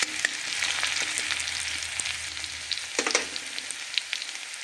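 Crushed garlic and grated ginger frying in a pan with dried chillies, for a mustard-greens chutney: a constant close sizzle with light stirring scrapes and a few sharper ticks, no speech.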